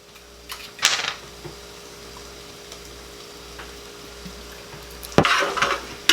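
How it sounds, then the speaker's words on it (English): Spoon stirring fried rice with soy sauce in a pan, giving two short bursts of scraping and clattering with a faint sizzle in between, close and fairly quiet with no talking. "So stir this thing up with soy sauce."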